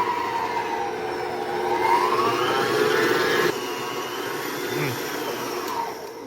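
An electric mixer whirs close by, beating sugars and vanilla paste into peanut butter cookie dough, its motor a loud continuous whine that wavers in pitch as the beaters work through the batter.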